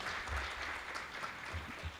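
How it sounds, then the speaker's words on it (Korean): Audience applause at the founding general assembly of a future quantum convergence forum, an even wash of clapping at moderate volume with a few thumps underneath. "박수 부탁드리겠습니다."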